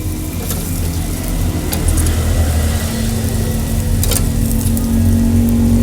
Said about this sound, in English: Oh yeah, that's sizzling now, right over the coals.